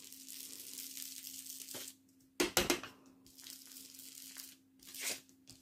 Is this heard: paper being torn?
yes